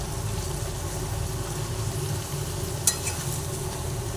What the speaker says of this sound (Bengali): আবার ভালোভাবে নাড়াচাড়া করে নিচ্ছি